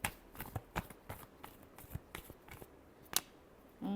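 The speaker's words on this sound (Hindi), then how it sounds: "Clarity, communication. Last shuffle" Tarot cards being shuffled by hand, a series of close, crisp riffling and tapping bursts in an uneven rhythm, fairly quiet with no talking.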